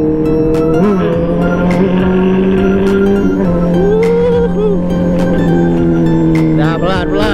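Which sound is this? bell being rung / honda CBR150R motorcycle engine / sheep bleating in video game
honda CBR150R motorcycle engine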